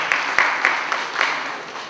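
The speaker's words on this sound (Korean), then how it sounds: "박수 한번 칩시다." A group of participants in an English phonics teaching session applauds together, a short burst of steady clapping with a few sharper individual claps standing out, then tapering off.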